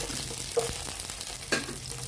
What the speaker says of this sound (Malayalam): വറുത്തെടുക്കാം